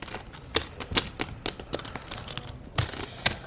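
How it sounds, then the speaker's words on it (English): Rapid clicking and clattering of poker chips being shuffled, quiet and close, in quick irregular bursts with no talking. "It feels weird shuffling chips."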